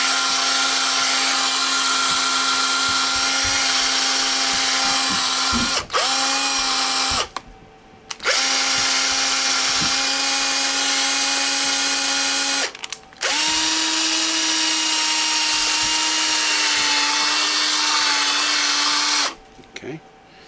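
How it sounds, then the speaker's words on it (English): Corded power drill spinning in reverse to buff a part of a Wico arcade joystick, a loud steady whine running in three long bursts with short pauses between them, slightly lower in pitch in the middle stretch. "It's funny how the drill spins slower in reverse."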